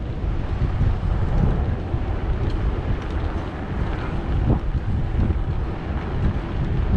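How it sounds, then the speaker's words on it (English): Strong wind blowing off Lake Ray Roberts near Sanger, Texas, on a hot August day during a bicycle ride, a loud continuous rumbling buffet against the microphone with no talking. "Boy, that wind is really blowing off of that lake"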